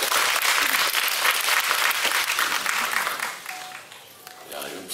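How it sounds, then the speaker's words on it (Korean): Audience applause at a cinema hall opening ceremony in Seongnam, steady dense clapping that stays loud for several seconds, then thins and softens near the end, with a brief tonal sound and a little voice mixed in. "여러분 큰 박수 부탁드릴게요"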